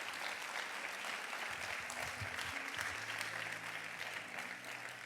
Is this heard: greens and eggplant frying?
no